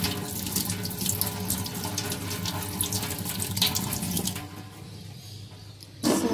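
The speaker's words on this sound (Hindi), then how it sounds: "इसको फिर से वॉश करते हैं।" Rice being rinsed under a running kitchen tap, a steady close rush of water into a sink with splashing, the flow easing briefly before surging again at the end.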